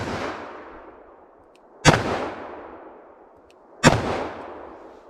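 Two loud, sharp reports from a Smith & Wesson Model 69 Combat Magnum revolver after a misfire is restruck, spaced about two seconds apart, each followed by a long fading echo outdoors.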